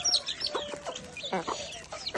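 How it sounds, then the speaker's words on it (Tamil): Village chickens cluck and squawk close by in short, irregular bursts, several birds calling over one another at a moderate level. "கொஞ்சம் பொறுமையா இருக்கிறதே கிடையாது இந்த கோழியை."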